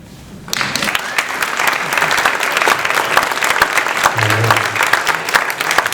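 Audience at a Seattle City Council District 5 primary election forum claps steadily for several seconds, a dense, loud wash of applause starting abruptly after a brief quiet moment.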